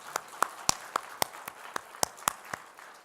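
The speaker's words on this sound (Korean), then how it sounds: "박수 한번 드릴까요?" Scattered, sparse claps ring out in a church congregation during a Sunday service, about a dozen sharp individual hand claps spaced irregularly over a quiet room rather than a full ovation.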